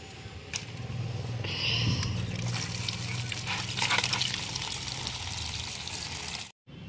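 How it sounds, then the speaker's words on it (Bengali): Star fruit being washed under water: a steady running, splashing stream with occasional drips and handling clatter, close and moderately loud, ending in a brief cut to silence. "আমি কামরাঙাগুলো প্রথমে ভালো করে ধুয়ে নিয়ে আসি।"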